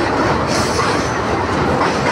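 The Duronto Express rolls across a large rail bridge before Cuttack in Odisha, its wheels and wagons making a loud, close, continuous rumble with a faint clattering rhythm.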